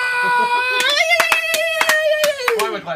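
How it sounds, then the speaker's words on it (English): A single person clapping hands, several sharp claps in quick succession on stage at a comic book show, heard under a sustained vocal tone. "Why am I clapping for myself?"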